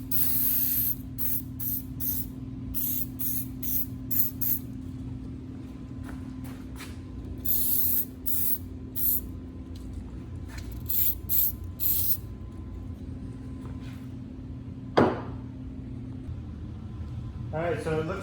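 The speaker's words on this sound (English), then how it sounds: "I'm just gonna put a little bit of belt conditioner on it" Belt conditioner sprayed onto the belt of a vintage bandsaw in a series of short hissing bursts against a steady mechanical hum, with one sharp clunk near the end.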